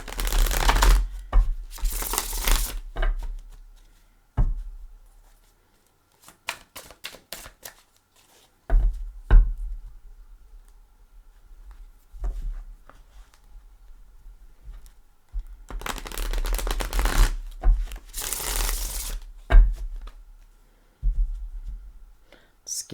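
Gilded Tarot cards are shuffled by hand in close, loud bursts of riffling and flapping, separated by quieter stretches of soft handling clicks and taps, with no talking.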